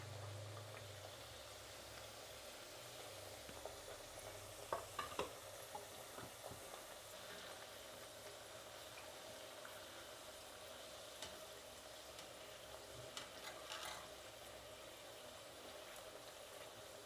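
Badam puri pastries frying in hot oil, a steady soft sizzle with occasional stirring clinks and bubbling throughout, moderately quiet and without any voices.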